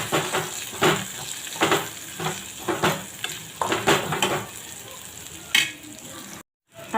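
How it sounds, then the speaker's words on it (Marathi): A spoon stirs masala with tomatoes in a frying pan, giving repeated scraping strokes over a soft sizzle, close and irregular, with a brief silent gap near the end. "आपण यामध्येच टमाटर पण घालून घेणार आहोत आणि छान हलवून घ्यायचे आहे।"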